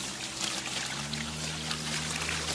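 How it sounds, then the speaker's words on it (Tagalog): Water pours steadily into a tray for soaking lettuce seeds, a continuous close splashing trickle with a low hum underneath. "Tapos kunin natin dito yung tubig, tapos ilalagay natin dito."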